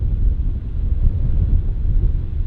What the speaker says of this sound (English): It's windy, all right.